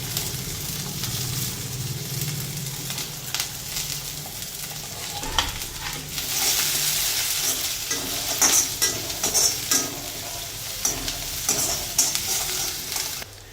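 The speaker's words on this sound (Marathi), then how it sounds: "त्यानंतर आता लगेच गाजर टाकून घेते आणि सिमला मिरची पण टाकून घेते." Carrots and bell pepper are stir-fried in a hot pan. The oil sizzles close by while a spoon scrapes and taps against the pan in irregular bursts, with no one talking.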